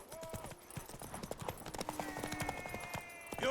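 Horse hooves clip-clopping in The Witcher 3, heard as a brisk, even run of close hoof clops over ground with game voices talking over it and a short whinny-like tone.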